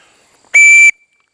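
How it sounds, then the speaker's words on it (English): A heavy-duty My Medic whistle gives one short, piercing, very loud blast lasting under half a second, alone in a quiet setting, with a faint tail trailing off afterward. "it is a very nice whistle"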